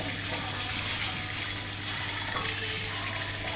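Water is pumped into the inlet of an 800mm, 2.5-inch reflux still column, a constant low pump drone under a gushing flow that stays steady and close throughout.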